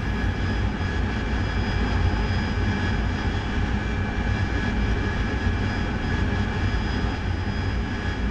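A steady, loud jet aircraft engine roar from a DCS World combat flight simulator during a convoy attack mission, continuous and unbroken throughout with no talk.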